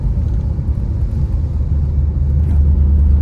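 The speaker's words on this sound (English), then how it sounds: "just a nice, very nice driving Camaro" A 1984 Chevrolet Camaro Z28 driving on the road, heard from inside as a steady low engine rumble and road noise that swells slightly toward the end, with no talking.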